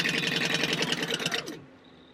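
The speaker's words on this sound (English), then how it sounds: "Alright, and then just sew all the way down." A sewing machine stitches a slip pocket down in one steady, fast, close run of rapid needle strokes, then slows and stops after about a second and a half.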